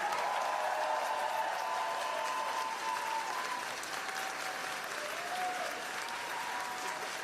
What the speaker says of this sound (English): I think I clapped for a federal agency tonight.